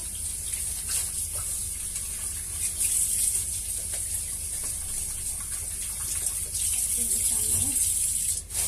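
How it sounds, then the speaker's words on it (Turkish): Water runs steadily from a kitchen tap while peppers are washed, a continuous close splashing hiss with faint handling rattles. "Biberlerimi yıkıyorum."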